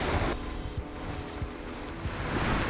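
Ocean waves washing up a beach as the tide comes in, a steady broad surf wash with soft wind buffeting, no voices.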